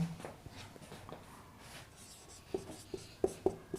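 Chalk writing on a board during a mathematics lesson, faint scratching strokes ending in a few short, sharp taps.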